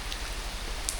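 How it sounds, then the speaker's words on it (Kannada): Rain falls at a resort in Coorg, a soft, even patter heard briefly and close by. "ಮಳೆ ಬರ್ತೈತೆ"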